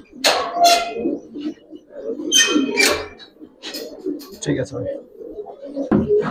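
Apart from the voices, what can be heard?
Giribaz silver pankhi pigeons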